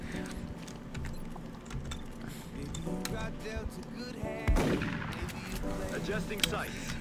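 Gunfire in the strategy video game XCOM Long War, a few sharp digital shots, the loudest burst midway, over game music and effects, with someone talking throughout.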